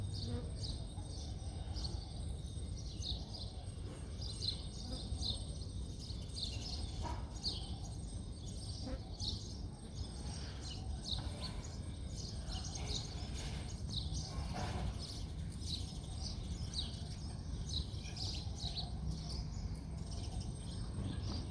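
Faint, busy chirping of sparrows and pigeons carries from a distance over a low steady rumble, with insects buzzing in the background.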